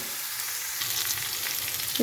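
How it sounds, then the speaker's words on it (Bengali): Vegetables frying in a pan make a quiet, steady sizzle with light crackle throughout, a soft stir or scrape near the end. "সেই জন্য একটু ভালো করে আমি একটু ভাজা ভাজা করে নেব"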